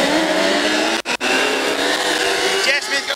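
Racing engines roar loudly and continuously at the start of a heat at Lake Liddell on Australia Day, with a brief drop-out in the middle and a commentator's voice over them.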